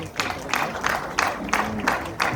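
An audience at a Rwandan family gathering claps for Marlene in short, rhythmic bursts, about six evenly spaced waves of applause at moderate distance, with faint voices underneath.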